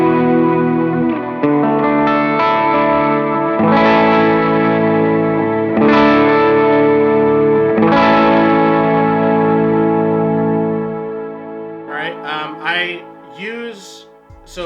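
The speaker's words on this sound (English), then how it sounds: "Part of my clean tone is reverb and delay, as well as the Bloom." Clean electric guitar tone through always-on compression, reverb, delay and a Bloom effect, with sustained chords ringing in long washes, each strum swelling and trailing into echoes, followed by a few softer picked notes at the end.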